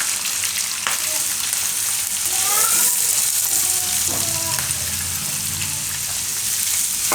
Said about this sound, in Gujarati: થોડીક વાર તેલમાં ફેરવીને આપણે એમાં ડુંગળી નાખીશું.